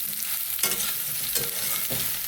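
Spoon stirring soybean chunks through plenty of refined oil in a pan, with three distinct scraping strokes rising out of a steady bright sizzle, close and alone.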